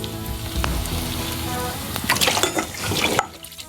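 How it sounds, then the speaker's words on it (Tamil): Onions sauté in a pan with a steady, close sizzle and crackle that grows busier near the end, then cuts off abruptly, leaving quieter background. "இதில் வெங்காயம் நல்லா வதங்கிட்டே இருக்கு"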